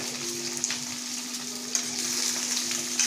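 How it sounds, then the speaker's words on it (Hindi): Lasoda (gunda) berries hit hot oil and sizzle continuously, a bright crackling hiss with a few sharper pops and a faint steady hum beneath, close and moderately loud, no voices. "अब सबसे पहले हम इस गर्म तेल के अंतर्गत तेल को हम ठंडा नहीं करेंगे और इन लेसों को हम इसके अंदर डाल देंगे"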